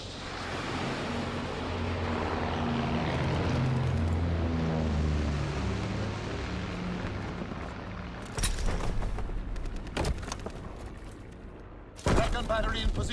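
Aircraft in a strategy video game engaging enemy aircraft, heard as a sustained engine drone with bursts of gunfire and booms, while announcer voice lines play over it.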